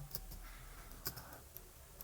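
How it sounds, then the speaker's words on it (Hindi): Keys tapped on a faulty, repaired computer keyboard: a handful of sparse, quiet clicks scattered over two seconds, heard alone without talk. "ये कीबोर्ड ना मैंने रिपेयर कराया और सच में ठीक से काम ही नहीं करता है"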